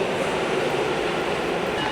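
A metro train arriving at Shinjuku station in Tokyo, a loud steady rumble of rolling wheels with a faint rhythmic clatter, close by and continuous, with no talking.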